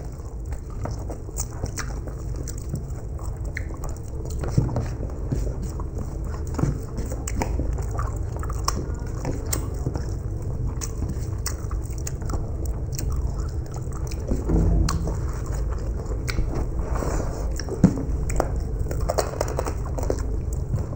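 Chewing and biting of cooked food during an ASMR eating challenge, with close, steady wet mouth sounds and small crunches repeating across the whole stretch, no talking.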